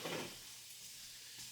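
Garlic goes into a pan of sautéed vegetables for New England stuffed quahogs, with a brief burst of sizzling at the start that settles into a soft, steady frying hiss, close by and without talk.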